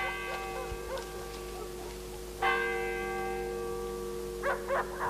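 A church bell rings at night in a rural Italian village, its sustained tones striking at intervals, with a fresh strike around the middle and softer echoes near the end, moderately distant over a quiet background.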